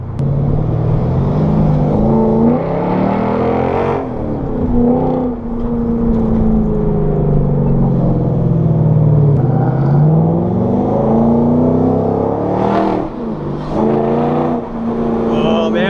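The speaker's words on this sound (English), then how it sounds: "GS sounds so good. Oh man, I'm glad I did the exhaust, man." A Lexus GS460 V8 with an aftermarket exhaust drones loudly from inside the car while driving at a cruise, its deep tone rising and falling with throttle, with brief revving swells near the end.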